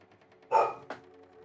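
A dog gives a single sharp bark close by, then a second, softer yelp a moment later. A faint low murmur runs underneath.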